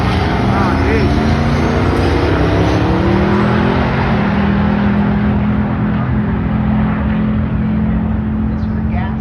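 Loud, continuous engine roar from a drag race car in an LSX drag race, a sustained drone with rising pitch sweeps as it races down the track, crowd and talk faintly mixed underneath.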